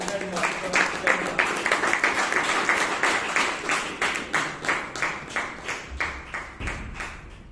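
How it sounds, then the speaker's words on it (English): Audience applause at a Toastmasters club meeting in Bangalore, a steady patter of individual claps from a modest crowd, fairly close and even in rhythm, with a voice speaking over it near the end. "Let us give a big round of applause and welcome to the Presiding Officer."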